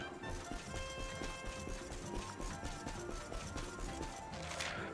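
A horse gallops in the video game Dragon Quest XI with a quick, steady clip-clop of hooves over game music and ambience, moderately loud throughout.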